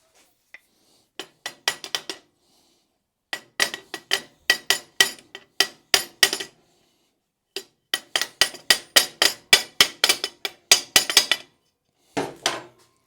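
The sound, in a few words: tapping threaded piece into bicycle footboard bracket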